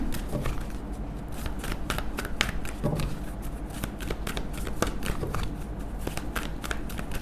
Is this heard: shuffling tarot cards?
yes